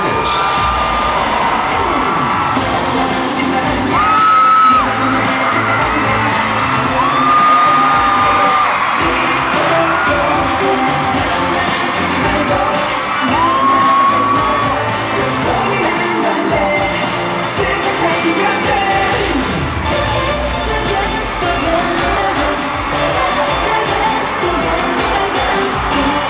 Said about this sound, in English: Please show your appreciation with thunderous applause for each and every one of the